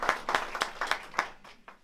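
Audience applause in a cellar cabaret venue for a performer, a handful of distinct, fairly close claps at an uneven rhythm, thinning out toward the end.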